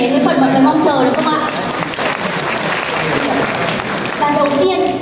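A sales training audience claps together at a Canopy Residences apartment presentation, a steady, dense wash of hands close by that holds for several seconds, with a voice speaking over the start and end.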